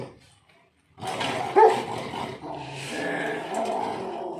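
A Rottweiler gives a burst of loud, close barks and growling yips at feeding time, starting after a second of quiet and running continuously, with one sharper peak early on.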